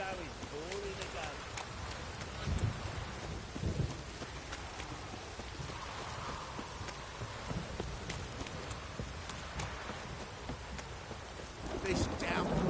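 Heavy downpour in the video game Witcher 3 drums steadily and loudly on the ground, with a few low thunder rumbles and thuds breaking through the continuous rain.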